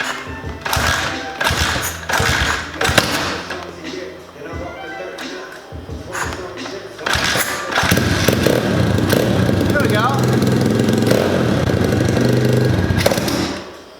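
A $200 pitbike engine, freshly fitted with a new carburetor, fires up on choke after some tapping and shuffling, then settles into a loud, steady idle that runs continuously to the end.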